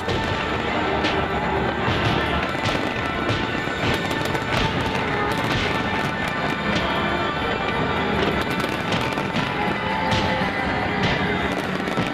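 Fireworks crackle and pop continuously over a dense roar of noise, many sharp bursts overlapping at a steady loud level.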